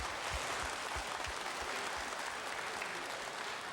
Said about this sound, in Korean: 축하의 박수를 좀 쳐주셔야겠어요